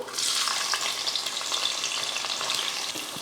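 Onions fry in hot oil with cinnamon and cloves inside an aluminium biryani pot. A dense, steady sizzle carries on evenly throughout, close up and with no voices.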